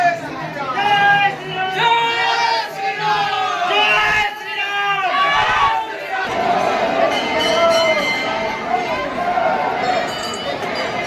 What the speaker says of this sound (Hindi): भीड़ कंट्रोल से बाहर हो गई है।